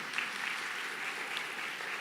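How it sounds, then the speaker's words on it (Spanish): Steady applause from a church congregation, a dense even patter of many hands clapping with no voices over it, holding at constant loudness throughout. "Dale un aplauso al Señor."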